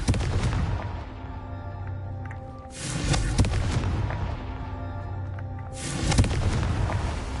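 A Confringo fire spell in Hogwarts Legacy bursts twice, a few seconds apart, each blast a loud deep boom that rumbles and fades.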